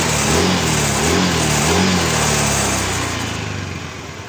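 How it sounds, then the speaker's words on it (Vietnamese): Honda Air Blade scooter engine, with a faulty O2 sensor repaired, revving steadily under open throttle, loud and close, with a sustained buzzy drone that tapers slightly toward the end. "Bây giờ chúng ta kéo ga thoải mái, xe không chết."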